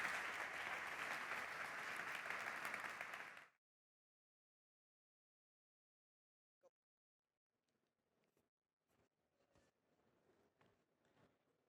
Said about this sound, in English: Join me in giving them a very big round of applause and saying thank you.